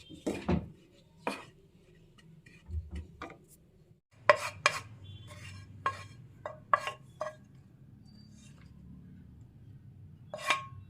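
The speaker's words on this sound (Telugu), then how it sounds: "ఇప్పుడు ఈ మిశ్రమాన్ని నువ్వులు పల్లీలు డ్రై ఫ్రూట్స్ ఉన్న పళ్ళెంలోకి వేసుకోవాలి" A hot flour mixture being scraped from a pan onto a plate holding sesame seeds, peanuts and dry fruits, with sparse sharp clinks and scrapes of a utensil against metal separated by quiet pauses, close and clear, no talk.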